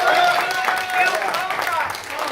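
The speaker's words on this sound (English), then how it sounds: "please give a super loud round of applause to these amazing actors" An audience at a G.I. Joe fan panel applauds and cheers for the voice actors, a dense, continuous burst of clapping mixed with voices that holds steady for a couple of seconds.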